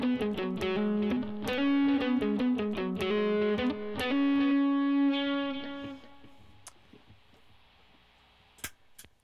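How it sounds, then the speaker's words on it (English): Electric guitar played through a clean amp with a Super Bar distortion pedal, a run of fast distorted lead notes followed by a sustained note that rings out and fades, with a few faint ticks at the end. "And then I'm using my Super Bar at Distortion to get the distortion."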